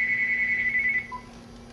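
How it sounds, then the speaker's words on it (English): A Gauss meter held near a cell phone in a fairly high EMF field gives a steady, loud electronic tone for about a second, then a brief fainter blip over a low constant hum. "anytime the Gauss meter makes a noise and it's above 2 for any length of time"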